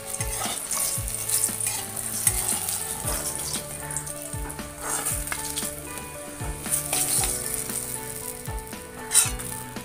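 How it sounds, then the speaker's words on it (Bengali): Eggplant pieces frying in oil before a rohu fish curry, a continuous close crackling sizzle with regular soft knocks and scrapes of a spatula against the pan, no voices. "বেগুনটা আমি লাল করে ভেজে নেব"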